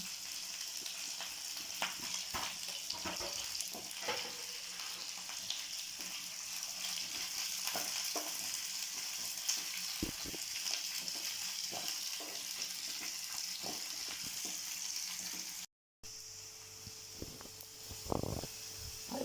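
Garlic and ginger fry in hot oil with a continuous crackling sizzle, scattered pops and stirring scrapes, cut by a brief gap near the end.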